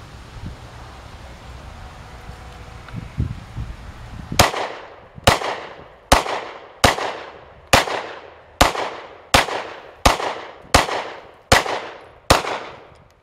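A Glock 27 pocket pistol fitted with a 9mm conversion barrel fires 9mm target loads in eleven sharp, loud shots at a steady pace, each one ringing out briefly outdoors.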